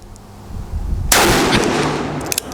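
A single loud, close blast from a Ruger Super Blackhawk Hunter .44 Magnum revolver fired from a rest, with a sharp crack that rolls into a long booming decay and trailing echo.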